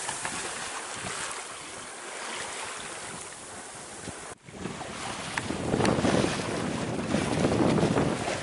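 A sailboat moves under a nine-knot breeze on the Mediterranean, with wind buffeting and waves washing along the hull, steady and moderately loud, surging stronger in the second half. No one speaks.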